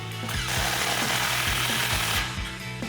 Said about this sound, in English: take a 16mm socket to tighten it down.